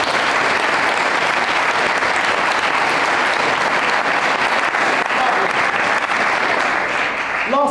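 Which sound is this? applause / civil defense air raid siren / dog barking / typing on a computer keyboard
applause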